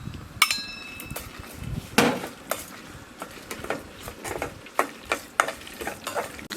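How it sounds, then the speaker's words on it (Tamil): Urad dal, dried red chillies and vadagam crackle in hot oil for tempering, with scattered sharp pops and spoon clinks against a metal pan, close and fairly quiet, no talking. "உளுந்து, காஞ்ச மிளகா, வடகம் மூணையும் போட்டு தாளித்து"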